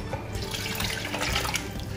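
Soaked stockfish and stock pour steadily into a cooking pot for egusi soup, a continuous close splashing gurgle of liquid with no speech.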